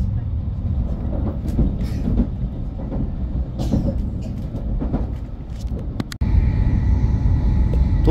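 Steady low rumble of a Tokaido Shinkansen N700S bullet train running after leaving Shin-Yokohama toward Shinagawa, with a sudden shift in the roar near the end as the sound changes pitch and texture.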